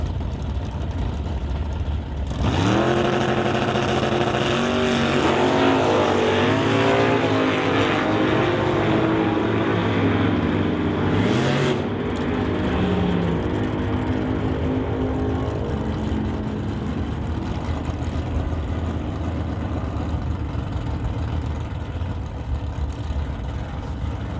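A 1962 Chevy II and a 1965 Dodge drag racing car burst into a loud, close engine roar that revs and wavers in pitch, then settles into a sustained rumble with a sharp surge midway.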